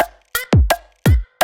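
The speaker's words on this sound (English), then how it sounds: "Just a sort of standard drum beat." A simple drum pattern: deep kick thumps alternating with sharp snare hits in a steady, moderate rhythm, loud and alone.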